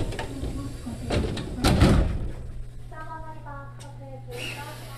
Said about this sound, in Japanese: ボタンを押しドアを開け、